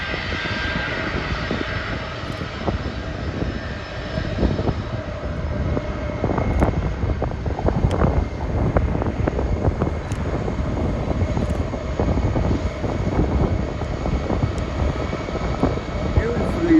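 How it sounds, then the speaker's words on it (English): A loud, continuous DHL cargo jet engine roar at Schiphol airport, with steady droning and a voice talking over it throughout. "There's a beautiful DHL plane."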